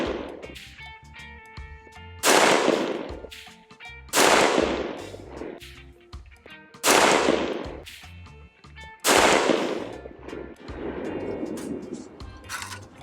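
Del-Ton SXT mid-length AR-15 rifle firing Federal all-copper .223 ammunition outdoors: four loud, sharp single shots spaced a couple of seconds apart, each with a ringing decay and a fainter report later.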